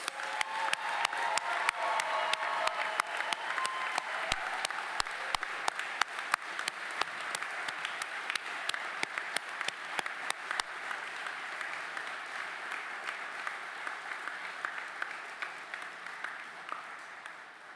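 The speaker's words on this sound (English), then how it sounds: "please give a large round of applause for all of our graduates." A large audience applauds graduates at a naval nuclear power training command graduation ceremony, steady dense clapping with some cheering that holds loud throughout before slowly thinning toward the end.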